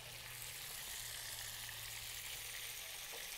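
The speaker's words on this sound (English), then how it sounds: "we have some vegetable stock boiling right here, and we're gonna add in our rice." Vegetable stock at a rolling boil with rice just tipped in, giving a steady, close, broadband sizzle and bubbling hiss that stays even throughout with no talking.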